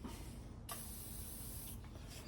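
A single quiet hiss of aerosol lubricant sprayed onto a nut on a 1972 Volkswagen Super Beetle, lasting about a second, followed by a brief second puff against a low background hum.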